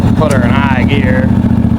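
A Wheel Horse B100 lawn tractor rigged as a mud mower runs loud in high gear, a steady close engine drone under a voice speaking over it.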